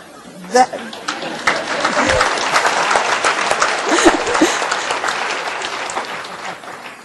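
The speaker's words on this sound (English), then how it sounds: "That does not deserve applause, but thank you." Audience applause during a health literacy talk about taking flying lessons, a full crowd clapping steadily for about seven seconds with a sharp loud burst near the start, fairly close and loud.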